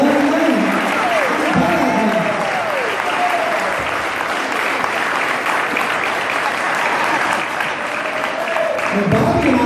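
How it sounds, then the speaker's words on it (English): A crowd at a boxing hall of fame event gives a big round of applause for a boxing champion, loud sustained clapping with a few voices calling out over it at the start and end. "Give him a big round of applause."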